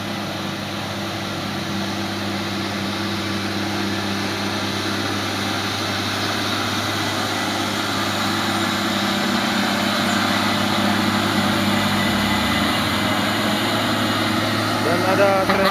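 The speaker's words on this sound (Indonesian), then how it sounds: "Dan ada trailer Hino yang menurun." A Hino trailer truck comes down the Bukit Kodok hill, a steady low engine drone with a faint high whine that grows slightly louder toward the end, under light talk.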